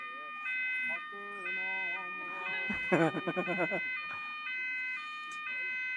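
Emergency siren or alarm in a street in Southall: a steady electronic siren alternating between two pitches, moderately loud, with a brief burst of another noise and a voice in the middle.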